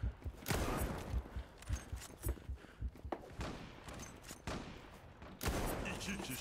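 Kar98 sniper rifle shots in the online shooter Zula, several sharp, loud gunshot cracks spaced unevenly through a noisy firefight, with other gunfire and game effects around them.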